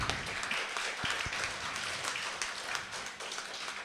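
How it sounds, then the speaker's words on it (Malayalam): Schoolchildren clapping together at a school gathering, a fairly faint, distant wash of scattered hand claps that stays steady throughout, with a few sharper individual claps standing out. "ഒരു നല്ല ക്ലാപ്പ് കൊടുക്കൂ എൻ്റെ മക്കൾ"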